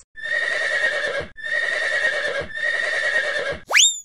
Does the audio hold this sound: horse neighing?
yes